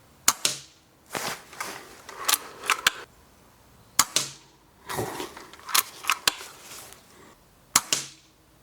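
Weihrauch HW100 air rifle fired standing off-hand outdoors, several sharp cracking shots spaced a few seconds apart, each followed by softer handling clicks and rustles, close and crisp without talk.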